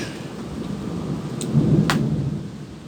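A thunderstorm with steady rain hissing throughout, punctuated by a loud nearby thunderclap that builds into a heavy rolling rumble in the second half; no voices.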